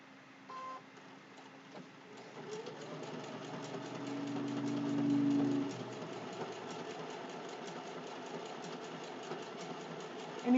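A sewing machine stitches fabric applique onto a Halloween placemat, a steady mechanical whir and rapid needle chatter that swells briefly midway, then runs on evenly, close and continuous without voices.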